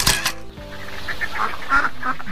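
Ducks in a duck-raising village in Kebonsari, Candi, Sidoarjo, East Java, giving loud nearby honking quacks at the start, then a string of scattered calls over an open outdoor background.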